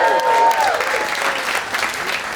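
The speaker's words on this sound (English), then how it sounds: "I don't need your claps" Stand-up comedy audience breaking into loud, close applause mixed with some cheering, sustained through the short moment.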